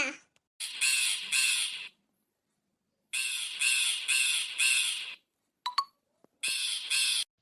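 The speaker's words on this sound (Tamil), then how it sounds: "இந்த காக்கா வேற இங்கே கத்திட்டே இருக்குது" Crow cawing loudly in a mango orchard, several harsh caws in quick bursts with pauses between, close by and alone.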